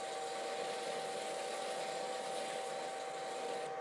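Wood lathe running at reduced speed, a steady even whirring hum with a constant tonal whine, uniform and moderately quiet throughout, no voices.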